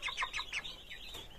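COBB 500 broiler chicks about a month old peeping in a cage, a rapid run of high chirps up close, loud at first and then thinning into softer calls.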